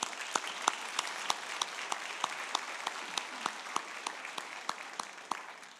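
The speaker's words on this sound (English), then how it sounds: "Please join me in a round of applause for their presentation of the colors." Steady applause from an audience at a Marine Corps birthday dinner, honoring a presentation of the colors, with distinct individual claps standing out from the sustained clapping throughout.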